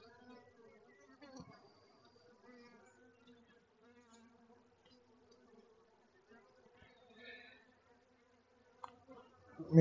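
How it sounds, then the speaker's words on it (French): Honeybees buzz steadily at an open beehive with brood frames, a low continuous hum close by, with faint scattered sounds and a loud bump at the end. "beaucoup d'abeilles"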